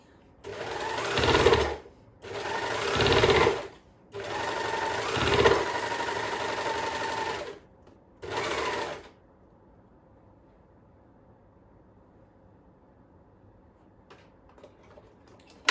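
An overlock serger sews scrunchies at a tension setting of 4 with loopers on 3, running in four loud, steady motorized bursts of about one to three seconds each with brief pauses, then falling to a quiet room.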